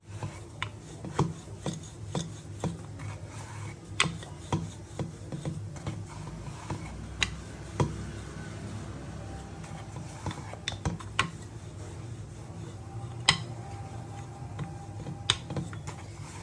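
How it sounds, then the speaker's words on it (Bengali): A rolling pin works stuffed aloo paratha dough on a board, giving soft repeated rubbing and rasping strokes with light taps between them, close and quiet with no talking. "আমি পুরটা দিয়ে এটা ভালোভাবে বেলে নেব"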